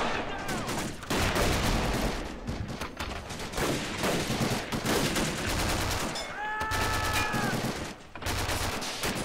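Video game gunfire during an amphibious marine assault on a castle, dense rapid rifle and machine-gun bursts mixed with distant explosions, a continuous loud battle din with a brief whistling tone near the end.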